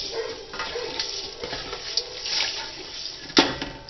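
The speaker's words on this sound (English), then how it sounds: "I'm going to add a cup of water." A cup of water is poured into a pot of roux for gumbo, a few seconds of uneven splashing and gurgling with small bursts, fairly close and with no voices.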